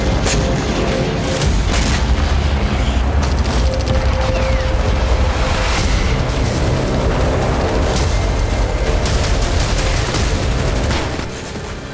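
Explosions from a Ukrainian attack on Crimea, a dense continuous barrage of booms and crackling blasts lasting several seconds before easing slightly at the end.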